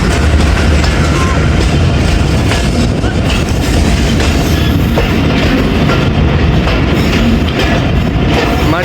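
Baba Fareed Express, 38 Down, rolling into Machiwala railway station in the evening, a loud continuous rumble and clatter of wheels over rails heard from on board, steady throughout with no talk.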